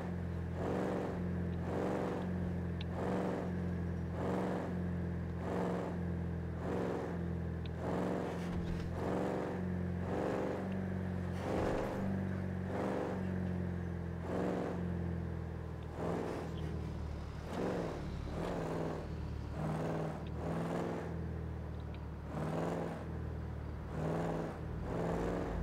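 A car drives along with a steady, low engine drone and road hum, heard from inside the vehicle. The sound stays even throughout with no talking.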